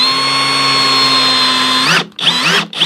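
A power drill pre-drilling wood whines steadily at high speed for about two seconds, then slows and stops, followed by two short bursts of drilling. Loud and close.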